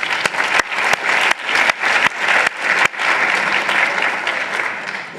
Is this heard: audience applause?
yes